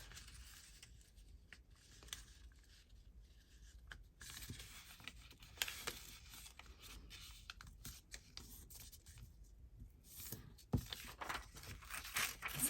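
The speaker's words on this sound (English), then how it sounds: "it's the type of paper that cracks. You can hear it crack when you fold it" Book-page paper crackles and rustles as it is handled and folded, a run of close, dry crisp crackles and soft scrapes with a few sharper snaps, no voice.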